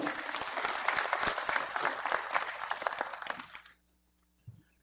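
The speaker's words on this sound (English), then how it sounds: "Please give them a round of applause." An audience at the launch of a public service upskilling platform applauds with a dense burst of clapping that fades out after about four seconds, followed by a single faint knock.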